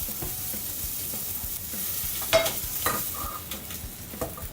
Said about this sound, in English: We're gonna cook up some meatballs here.